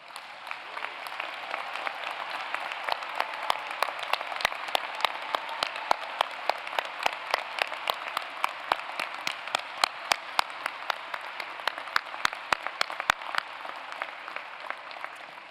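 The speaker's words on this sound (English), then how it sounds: "please stand up so we can give you a big round of applause" Sustained applause from a convocation audience greeting award winners at a Harvard Chan School ceremony, a dense steady wash of many hands with sharp individual claps standing out near the microphone throughout.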